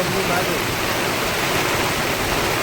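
Dense, steady hiss of heavy rain pouring down on a highway at Sihori, loud and continuous with no breaks.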